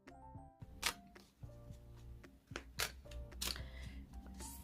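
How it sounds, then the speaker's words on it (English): Tarot cards are shuffled by hand in a few soft, quick riffles and taps, close by, over steady background music with no talking. "So let's shuffle the cards"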